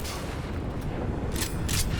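Gunfire in the video game Cyberpunk 2077, a few sharp bursts rising out of a dense, steady game soundscape, fairly loud, with no voices.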